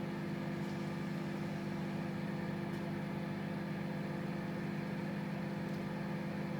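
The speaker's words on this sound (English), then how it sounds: "can hear some sounds inside the microwave" A microwave oven hums steadily while cooking fish inside, a quiet, even drone with a constant low buzz and no talk.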